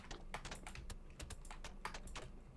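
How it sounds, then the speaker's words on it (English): Rapid, irregular clacking of a loud computer keyboard being typed on while building in Minecraft, close and fairly quiet, with dense overlapping keystrokes and no speech. "This keyboard is so loud,"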